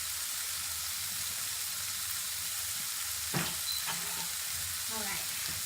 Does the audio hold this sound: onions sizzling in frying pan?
yes